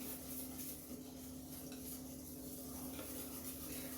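Banana cake batter being mixed in a bowl, a steady, soft scraping and swishing of utensil against bowl that runs continuously and close, with a faint hum behind it and no talking.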